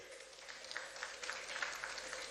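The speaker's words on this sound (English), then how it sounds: "Please, a round of applause for him." Faint, distant applause ripples through the room at a ministerial press briefing, a thin patter of scattered hands clapping at low level, steady and without speech.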